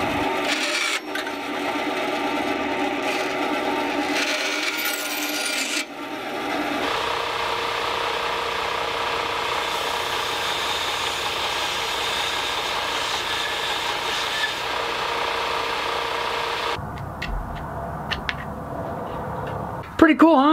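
A bandsaw cuts small wooden screw-hole plugs, then a belt grinder sands them flush, giving a steady continuous machine whine and rasping hum throughout, with a brief change in tone near the end.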